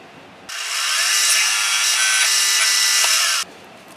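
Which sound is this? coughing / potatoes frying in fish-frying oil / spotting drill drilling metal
spotting drill drilling metal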